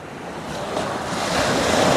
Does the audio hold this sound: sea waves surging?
yes